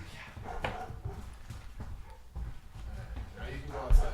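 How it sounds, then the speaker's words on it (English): A dog whimpers and yips in a run of short, irregular bursts close by, mixed with voices talking in the background. "The one out there that you met that was barking so much."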